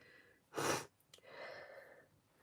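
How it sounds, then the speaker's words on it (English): Sniffling from a person with a cold, a sharp nasal sniff followed by a softer drawn-out breath, close and quiet, with no talk. "Can't stop sniffling."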